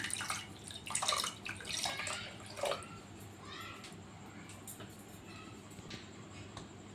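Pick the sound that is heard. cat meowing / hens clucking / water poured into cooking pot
water poured into cooking pot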